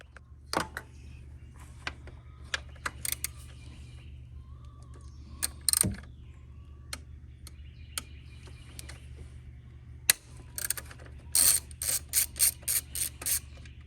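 A ratchet works a bolt loose on a Nissan Frontier engine during a spark plug change, sparse clicks at first, then a quick run of ratcheting clicks near the end, close and fairly quiet.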